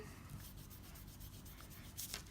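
A light dry rubbing of fingers over brush-pen ink on paper, a faint, steady scratchy friction with a couple of slightly sharper strokes near the end, quiet and alone.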